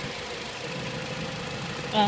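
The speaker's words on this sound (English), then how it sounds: "So that's the engine anyway." A Dodge Avenger engine idles steadily with a low, even rumble and faint knocking, close by and continuous.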